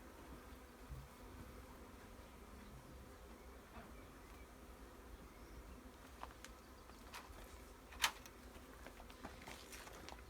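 Bees buzz around new polystyrene hives outdoors, a faint, steady insect hum that runs throughout, with a few soft clicks and a brief sharper tick near the end.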